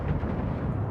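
Main guns of the warship Texas in a naval battle game, a continuous low rumbling roar of heavy gunfire and explosions, dense and booming throughout with no distinct separate shots.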